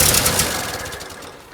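An engine that only puffed on the last attempt is cranked to start again, a short, loud burst of rough turning that fades within about a second and a half without catching.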